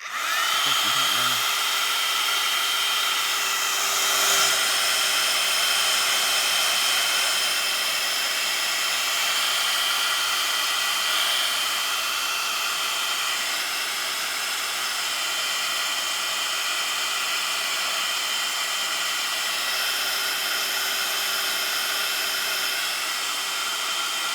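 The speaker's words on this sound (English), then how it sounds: "Now I'm going to dry that off with my heat gun." A heat gun blows hot air to dry paint in a journal, a loud, steady whining roar with a high tonal hum, running continuously at close range after a brief start.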